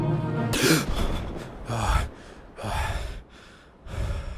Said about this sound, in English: I awoke, breathing heavily and sweat-soaked.